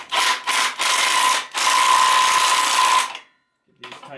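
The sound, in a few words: socket wrench threading in bolts on Duramax engine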